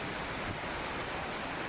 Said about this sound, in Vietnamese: Địa điểm tiếp theo là thác nước Nua Rứ Lảng.